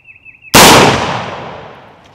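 A Kel-Tec PLR-16 pistol fitted with a new extractor and spring fires a single round, a sharp, loud crack that decays over about a second and a half after a faint warbling tone.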